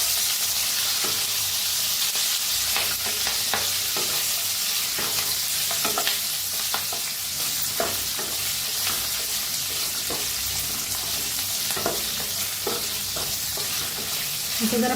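Curry leaves fry in a hot pan, giving a loud, continuous sizzle broken by repeated scraping strokes from stirring at a loose, steady rhythm, close by and with no one talking.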